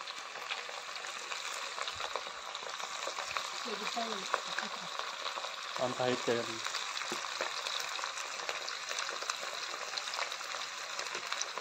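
Chicken pieces frying in hot oil in a large pan in a mango orchard, a steady loud sizzle throughout with brief voices rising over it.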